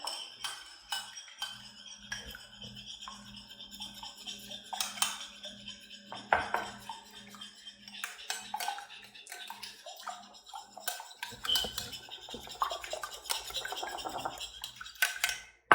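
A spoon clinks and scrapes around a bowl while chocolate chip cookie ingredients are mixed, irregular taps and rattles repeating close by over a low steady hum, no talking.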